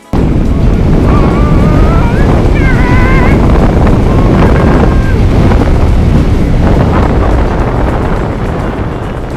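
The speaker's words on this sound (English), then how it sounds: "This is super windy" Strong wind roars and buffets loudly and continuously across the whole clip during speed riding in the mountains at Engelberg, Switzerland, with faint voice-like tones buried beneath the gusts.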